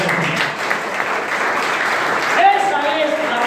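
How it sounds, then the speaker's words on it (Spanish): Church congregation breaking into loud sustained applause during a service, a dense continuous clapping wash with voices and a rising sung or spoken tone emerging near the end. "Un fuerte aplauso."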